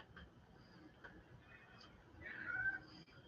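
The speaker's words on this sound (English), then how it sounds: "Cat is cute." A domestic cat gives a single faint, rising meow near the end, set against quiet room hiss.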